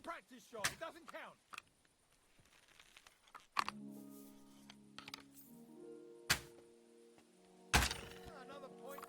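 Practice arrows in Kingdom Come: Deliverance 2 hit a target with sharp thunks, several impacts spread across the clip, interspersed with game music tones and quieter sounds.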